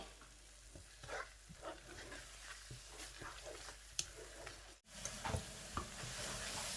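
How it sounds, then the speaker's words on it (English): Egusi soup sizzles in a pot while a spoon stirs it, giving faint steady frying hiss with soft scraping and squishing taps, quiet and close, without talking. "To mix it together. The egusi is getting ready."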